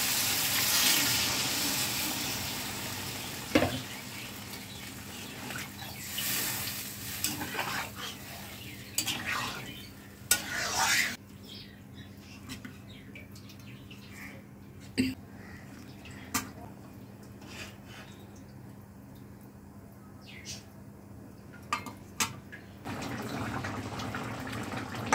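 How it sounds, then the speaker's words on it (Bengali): Water is poured into a spiced vegetable curry in a pan, making a long splashing, rushing sound broken by clinks and knocks, with a voice now and then. "এবার জল দেব"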